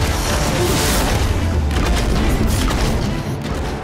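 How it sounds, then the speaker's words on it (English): Explosive chemical bombs fired from the Alchemist's hand cannon in the Nosgoth video game burst in a loud, dense roar of booming blasts. The rumble is continuous and sustained and fades slightly at the end. "It launches explosive chemical bombs that can bounce off terrain for impressive area of effect damage."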